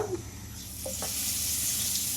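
Mustard seeds, cumin and curry leaves sizzle in hot oil as a tempering for raw mango pickle, a steady bright crackle that swells and carries on to the end.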